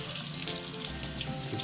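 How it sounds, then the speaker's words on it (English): Cold tap water runs steadily from a faucet into a sink over a doll's head, a continuous close-up splashing hiss with no voices. "You're going to run her head under the cold water to set it in."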